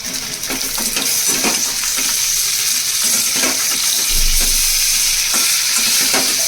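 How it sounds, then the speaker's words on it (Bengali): Chital fish dumplings fry with turmeric in a pan, giving a loud, continuous close sizzle broken by repeated stirring and scraping clicks, with no voices. "হলুদ দিয়ে চিতল মাছের মুইঠাগুলোকে এর মধ্যে দিয়ে দিলাম। দিয়ে একটু ভাজা ভাজা করে"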